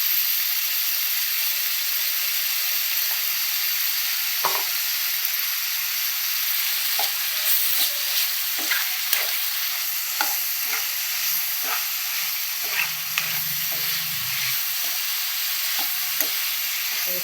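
Ginger garlic paste frying in a pan for vegetable pulao: a continuous close sizzle with scattered sharp taps and scrapes of a spatula stirring through it, and no voices.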